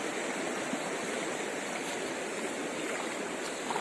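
A small stream flows near a riverside fishing spot, a steady, even rush of water with no breaks, moderately close and unaccompanied by voices.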